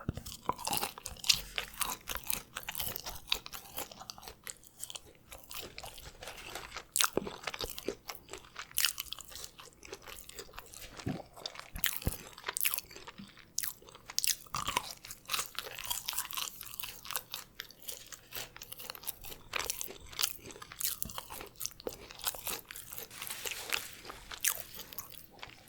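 Crisp, close-up crunching and chewing of crinkle-cut fries, with dense, irregular bites and mouth sounds running steadily throughout and no talking.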